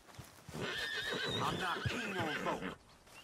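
Horse neighing in Red Dead Redemption 2, a long close whinny with a wavering pitch and faint hoof clops underneath, ending abruptly.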